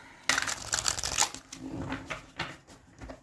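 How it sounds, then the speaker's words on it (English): A deck of tarot cards is shuffled up close, a burst of papery riffling and slapping followed by softer intermittent shuffles, with no talking. "One more shuffle."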